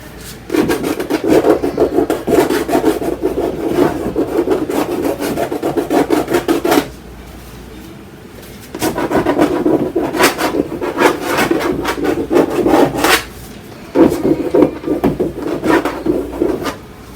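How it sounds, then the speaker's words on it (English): A tool scrapes repeatedly through wet paint on an abstract canvas, loud close rasping strokes in three long bursts separated by short pauses. "now I'm going to scrape into it again"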